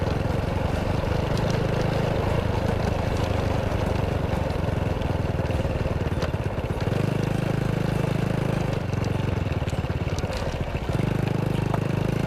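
Motorcycle engine running steadily close by, a continuous rough mid-pitched idle and throttle drone with brief changes in load, alone without talk.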